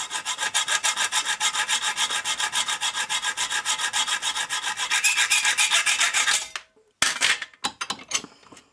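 Rhythmic rasping of a file deburring the cut end of a bungee cord, a steady run of close, even strokes that speeds up, then a brief pause before a few scattered scrapes.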